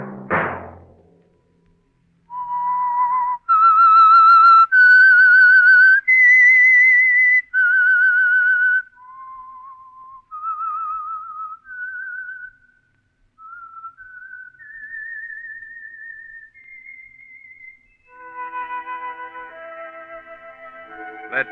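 A lone human whistles the theme tune of The Whistler radio show, a clear close melody of sustained, slightly wavering notes that rises and then drifts down, followed by a short chord of orchestral tones at the end.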